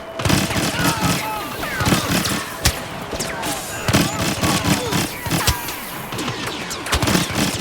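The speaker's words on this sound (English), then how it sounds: "But the EE4 burst, very fast." Rapid blaster bursts from an EE-4 carbine in Star Wars Battlefront, with repeated sharp shots amid dense, loud battlefield gunfire and explosions throughout.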